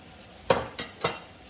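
Cabbage hitting a hot pan with salt, three short sizzling, stirring bursts about half a second apart, faint and close with no talking.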